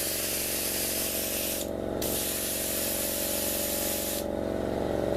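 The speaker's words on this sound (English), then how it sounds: "Now I'm going to try and spray it that way so I don't get it on the deck" An airbrush sprays paint onto a Revell SMS Dresden model ship, a loud continuous hiss close by, briefly pausing twice with a steady compressor hum underneath.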